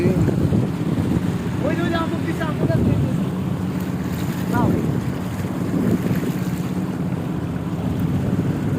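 A motor trawler's engine drones steadily on the Sangu River, with constant wind rush across the microphone and faint voices now and then.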